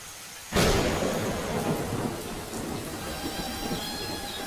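Cartoon storm sound effect: a loud thunderclap crashes in after a brief quiet start, then heavy rain pours steadily and close for the remaining seconds, with no voices.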